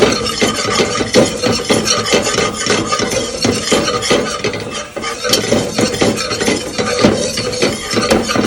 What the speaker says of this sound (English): Now you're gonna use a whisk to bring them together.